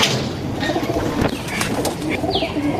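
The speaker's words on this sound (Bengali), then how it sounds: "এই যে আমার খাঁচার কবুতরগুলো" Caged domestic pigeons cooing close by, with low throaty coos repeating over a busy background, plus a few brief chirps and rustling wing movements.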